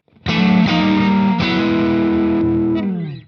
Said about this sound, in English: Right now, this is the Two Rock and the blues power.